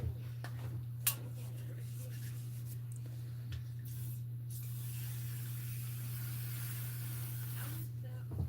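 A can of WD-40 lubricant sprays a steady, close hiss that lasts about four seconds over a constant low electrical hum, after a few faint clicks.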